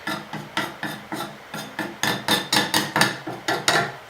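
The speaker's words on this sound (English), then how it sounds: "So I'm distressing it by the putty knife when I'm doing it." A putty knife scrapes and distresses paint in quick, rhythmic rasping strokes, about a dozen close, crisp scrapes repeating steadily and getting slightly stronger partway through.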